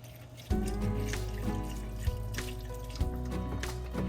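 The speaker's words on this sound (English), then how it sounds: "So we're gonna go ahead and add a cup of water, and hopefully that'll top it off." A cup of water is poured into a pot of broth, potatoes and vegetables, a clear splashing trickle starting abruptly and running steadily, with a few small drips and clinks close by.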